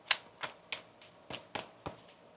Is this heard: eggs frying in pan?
no